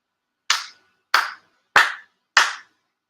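Four deliberate hand claps ring out at a prayer service, evenly spaced about two-thirds of a second apart, sharp and clear against silence.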